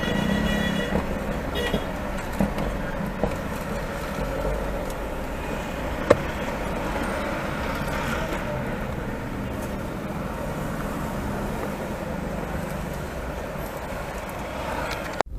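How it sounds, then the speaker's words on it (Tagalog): Steady road traffic rumbles on a service road seen from inside a moving car, with passing vehicles, engine drone and a faint horn toot in the distance. "Traffic din pala dito."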